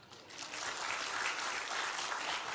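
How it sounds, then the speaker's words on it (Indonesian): A stand-up comedy crowd breaks into applause that swells quickly and holds as a dense, even clapping at a fairly faint, distant level. "coba tepuk tangan"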